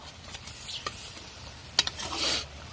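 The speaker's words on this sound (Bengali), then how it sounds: "পেস্টটা লাল লাল করে ভাজা হয়ে গেছে, একটু ভেজে নেব" Spice paste with cumin frying in hot oil while being stirred for a fish curry with potato and bitter gourd. A soft, close sizzle runs under a few scraping stirs, quiet overall, with no talking.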